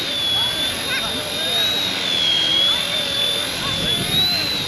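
A tiny Eachine E110 RC helicopter flies outdoors in wind, giving a thin, steady high-pitched whine that wavers slightly, under constant wind noise with someone talking over it.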